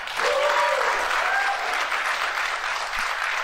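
Audience applause at a political town hall, a dense burst of clapping with a few faint whistles or cheers mixed in, steady and fairly loud.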